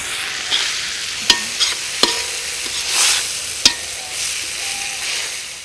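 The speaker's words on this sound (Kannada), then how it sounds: "ಟೊಮೆಟೊ ಹಾಕಿದ ನಂತರ ಮತ್ತೆ ತಿರುಗಿಸ್ಬೇಕು." Onions and tomato fry in a kadai over an outdoor fire, a soft steady sizzle broken by several sharp scrapes and knocks as a ladle stirs against the metal pan.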